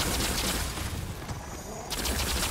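Rapid gunfire from the Remnant 2 video game rattles in a dense, continuous burst, loud and close, briefly thinning in the middle before resuming at full intensity.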